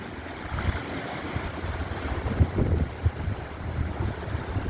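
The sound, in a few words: fast river water flowing under bridge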